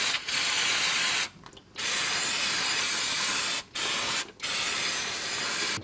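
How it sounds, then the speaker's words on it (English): Degreaser is sprayed onto a transfer case in close, hissing bursts: a long spray, a brief pause, another long spray, then two shorter blasts, with nothing heard between them but quiet gaps. "Now we'll give it a bit of a spray with some degreaser."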